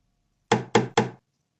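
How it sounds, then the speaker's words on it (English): Three deliberate, evenly spaced knocks on the miniature door of a dollhouse, crisp and close, each short and sharp, followed by silence. "Those are 3 distinct knocks on the miniature door of the dollhouse, deliberate and rhythmic"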